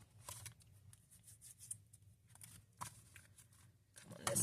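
Scissors trim paper on a composition notebook being altered with collage, giving a few soft snips and rustles at close range amid quiet handling noise.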